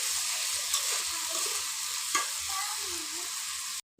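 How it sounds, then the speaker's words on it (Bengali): Dried fish with onion and garlic frying in a pan, a continuous close sizzle broken by a few light stirring scrapes, cutting off abruptly at the end. "পেঁয়াজ রসুনের সাথে একেবারে ভেজে নেব শীতল আর চিনি মাছটাকে"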